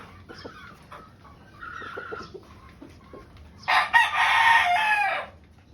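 A pure white Kelso brood stag rooster, straight-combed and high-stationed, clucks softly in short bursts before letting out one loud, close crow.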